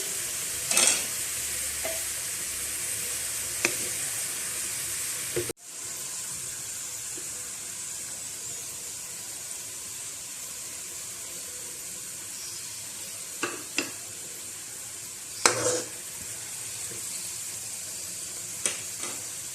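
Onions frying in a pot for a Sindhi biryani, with a steady soft sizzle and several bursts of stirring and scraping scattered through, close by with no talk.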